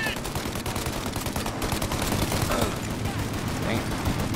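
Dense, continuous gunfire in a Mafia Definitive Edition shootout against a tank, a rapid crackle of shots layered over one another without pause, with voices mixed in.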